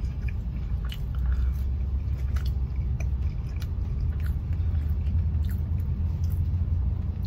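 Crunchy Roy Rogers fries chewed close up, a steady run of crisp bites and mastication over a low rumbling background, with no talk.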